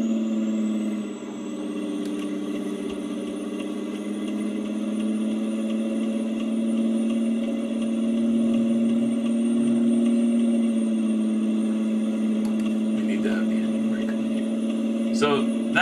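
An OTTO truck engine idles in a steady, even drone with a thin high whine above it, holding constant throughout while someone talks over it.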